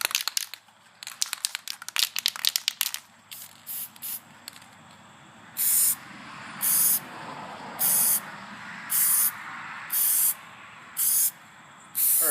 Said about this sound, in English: I'm just going to use some spray lacquer